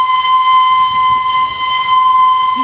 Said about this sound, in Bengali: দার্জিলিং রেলওয়ের হেরিটেজ, ইউনেস্কো দ্বারা স্বীকৃত সেই আমাদের টয় ট্রেন